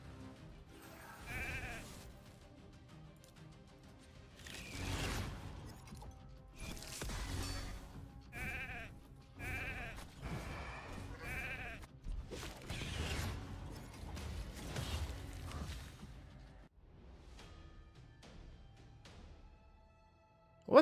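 Quiet sheep bleats from the video game Raid Shadow Legends repeat in a string of short calls across the stretch, mixed with soft game effects and no talk.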